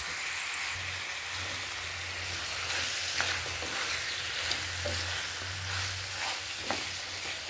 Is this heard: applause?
no